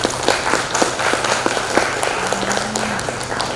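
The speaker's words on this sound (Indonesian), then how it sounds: "Boleh tepuk tangan." Audience clapping at a kindergarten farewell event, moderate scattered applause with distinct individual claps over a background hum and a brief tonal sound partway through.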